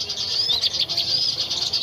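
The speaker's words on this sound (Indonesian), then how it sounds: "Nah itu ada burung kutilang" A sooty-headed bulbul (burung kutilang) calls outdoors, a run of bright, warbling chirps close by and fairly loud with no one talking.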